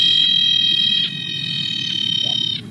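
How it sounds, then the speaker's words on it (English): A screaming tree frog calls with a shrill, sustained, high-pitched trill that holds almost without a break, loud and close over a low background rumble. "Next, we have the screaming tree frog."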